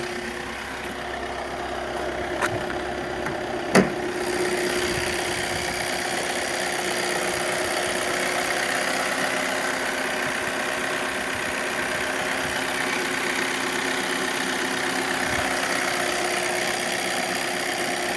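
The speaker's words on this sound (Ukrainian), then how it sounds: "можемо послухати як працює мотор поближче" A Volkswagen Transporter 2017 2.0 diesel engine idling steadily at close range, a continuous low rumble with a couple of brief clicks near the start.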